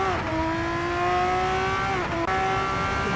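Onboard engine of a Formula 3 race car driven by James Lloyd: a loud, high, sustained engine whine holding steady, dipping briefly with a quick gear change near the end, then rising again.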